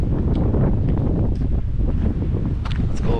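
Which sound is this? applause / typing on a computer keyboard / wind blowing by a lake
wind blowing by a lake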